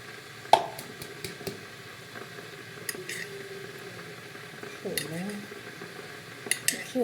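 A spoon clinks sharply against a cup a few times while Nescafe is made, faint scattered taps spread over quiet kitchen background with a voice talking.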